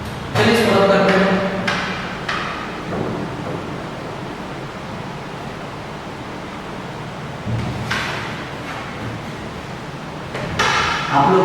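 Writing is rubbed off a classroom board in a mathematics lecture, giving soft, brushy scrubbing strokes that come in a few bursts with quieter gaps between.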